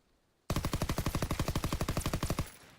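A rapid burst of automatic gunfire in a World War II video game, about twenty evenly spaced loud shots over two seconds, starting abruptly after silence and cutting off sharply, with no talking.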